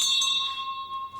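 A single bell tone rings out with a sustained, steady hum that slowly fades, standing alone without voices, in a small Irish village setting.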